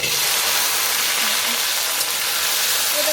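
Taro root (kochurmukhi) drops into fully heated oil and fries with a steady, dense, close sizzle that holds at an even loudness throughout, with no voices over it.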